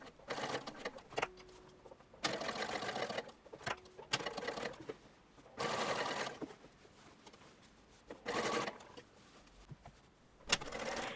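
A sewing machine runs a long basting stitch to hold pleats in place on a shirtwaister dress, in several short bursts of whirring separated by quiet pauses, with no talking.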